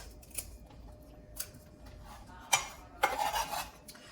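Fresh rosemary leaves being stripped from their stalks in a kitchen, a few quick dry rasping pulls and rustles, close and fairly quiet, with a longer scraping burst near the end; no voices.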